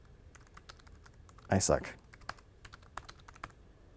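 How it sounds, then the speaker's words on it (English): Keys clatter on a Logitech Bluetooth illuminated keyboard in scattered light taps, close and crisp, briefly interrupted by a short spoken phrase before the typing resumes. "I don't know how to type a sentence. Type a sentence."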